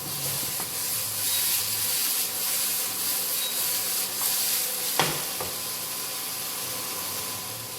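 Beef Wellington searing in olive oil in a pan, a steady soft sizzle and scraping rub running throughout, with a sharper knock of the pan partway through and no talking.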